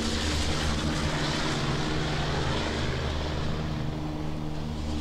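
A loud, steady propeller engine roar from a Martin Mars flying boat drones throughout, constant and close, with a low throbbing hum and no pauses.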